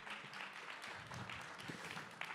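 A festival conference audience applauding as a speaker named Claire is called up on stage, a faint, dense wash of continuous clapping from a crowd, heard at a distance.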